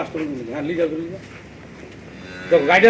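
A young cow on a farm gives a short low moo, followed by a pause and another call, with people talking nearby.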